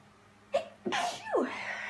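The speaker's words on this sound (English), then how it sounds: "I need to sneeze, I'm so sorry." A single sharp sneeze bursts out close by, a quick intake then an explosive release with a trailing vocal tail.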